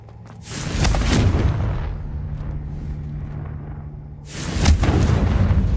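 Two heavy, booming blasts from the Confringo spell in Hogwarts Legacy, one near the start and one near the end, with a low rumbling hum sustained between them.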